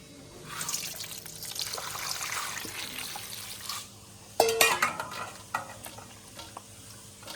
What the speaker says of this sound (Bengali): এখন ভালো করে জল দিয়ে আমগুলো ধুয়ে নেব।